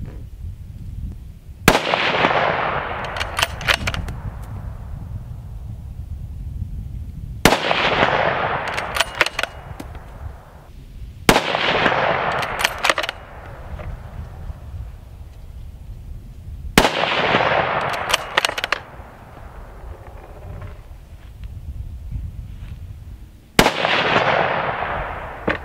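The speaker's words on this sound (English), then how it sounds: "We're going to be shooting some steel with this 308." A .308 rifle fires five loud, sharp shots outdoors at steel targets 150 yards away, spaced several seconds apart, each blast trailing off with a faint metallic ring from the struck steel.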